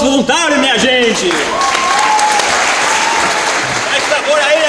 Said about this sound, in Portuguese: Um aplauso para o nosso voluntário, minha gente!